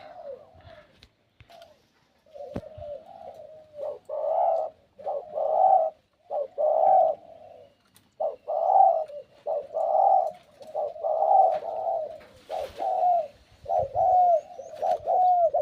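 A trained decoy dove coos repeatedly in a steady, rhythmic series of low, mellow calls, fairly close and clear, with brief pauses between phrases.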